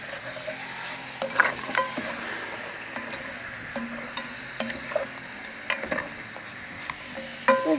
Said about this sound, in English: Now we're just browning it. It's on high.